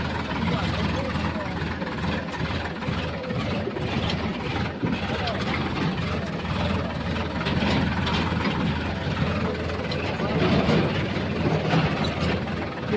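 A tractor engine runs steadily on a hilly farm road, a loud continuous low rumble that holds throughout while people talk over it.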